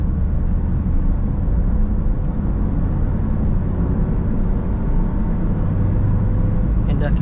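Honda Brio engine pulling after a shift into fourth gear, a dense low rumble of engine and road noise heard steadily from inside the cabin, with a driver talking over it.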